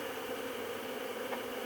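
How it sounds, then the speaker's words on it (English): Bees swarm close around a disturbed backyard hive during an inspection, a dense steady buzzing hum surrounding the listener without pause. "I have so many bees flying around me, it's unbelievable"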